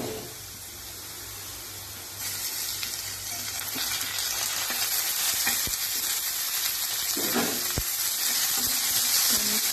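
Onion frying in a pan until browned, a close steady hiss of sizzling oil that grows louder, broken by a few sharp utensil knocks and stirring sounds, no talking.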